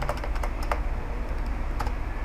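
HTML code tapped out on a computer keyboard, with close, crisp key clicks in uneven quick bursts over a steady low background hum.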